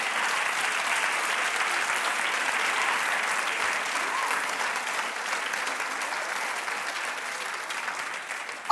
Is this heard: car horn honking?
no